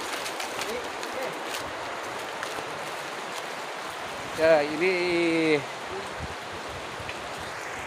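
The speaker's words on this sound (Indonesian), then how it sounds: "sungai, sungai mata pergunungan, mata air pergunungan." A mountain spring river flows beside a forest cooking spot, a steady broadband rush of water running throughout, with brief nearby talk and a short tonal whistle-like sound partway through.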